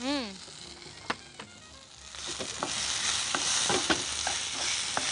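Ingredients including tomato fry in a pan with a sizzle that builds and grows louder, broken by scattered clicks and scrapes of a stirring spoon. A brief voice is heard at the start.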